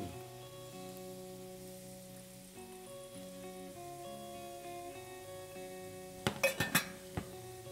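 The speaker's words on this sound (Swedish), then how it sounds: "Jag lägger lock på." A lid set onto a cooking pot, a short cluster of sharp metallic clinks near the end, following a quiet stretch with soft background music.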